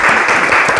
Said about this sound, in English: let's give him a round of applause, as we normally do